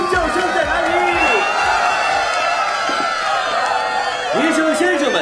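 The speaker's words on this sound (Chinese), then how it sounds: "掌声尖叫声在哪里？" Crowd at an evening dance party cheering and screaming, loud overlapping whoops and shouts rising and falling over a continuous roar, with sustained high-pitched yells throughout.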